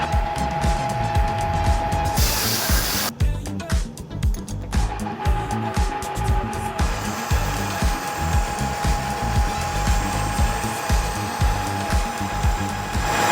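A drill cutting a half-inch hole, 32 millimeters deep, in a steam hammer part. A loud, steady mechanical whir with a rhythmic pulsing runs throughout, with a brief shift in tone partway through and no speech.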